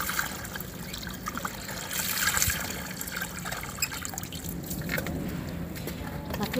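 A rug is washed in a small bathtub, its soaked fabric sloshing and trickling with water in irregular surges and splashes, close and continuous, with no voices.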